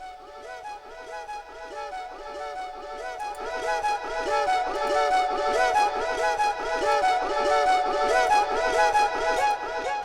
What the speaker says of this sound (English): during the B section you can hear like these voices kind of come in